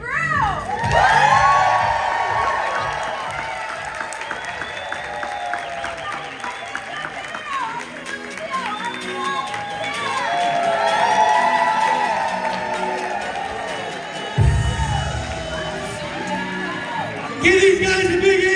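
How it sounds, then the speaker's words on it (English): A conference audience cheers, whoops and shouts loudly for a group on stage, with children's high voices in the mix and applause swelling and fading over nearly twenty seconds, punctuated by bursts of noise. "Everyone smile and everyone cheer for this group!"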